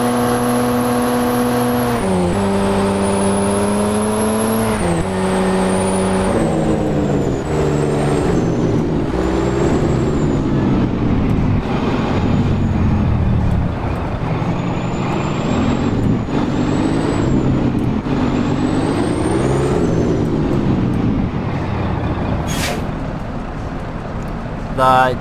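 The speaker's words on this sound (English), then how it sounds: "The jake braking system sounds terrible" A truck's jake brake in American Truck Simulator, a loud continuous engine-braking drone whose pitch rises and falls for about twenty-five seconds with no pause.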